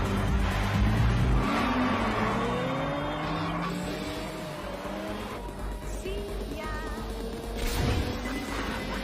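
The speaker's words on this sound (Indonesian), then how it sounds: "Di sini diperlihatkan sebuah balapan mobil yang menarik" Race cars tear down a street in a nighttime-style film street race, engines roaring and revving loudly with passing whooshes and a sharp crash-like burst, under a dense mix of music or effects.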